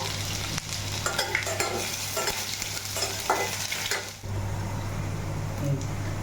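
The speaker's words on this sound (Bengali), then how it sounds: "আদাটা হালকা ভাজা হয়ে গেছে।" Grated ginger sizzling in hot oil in a pan with black cumin seeds, a steady close frying crackle with intermittent stirring scrapes, no talk.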